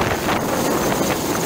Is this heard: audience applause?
no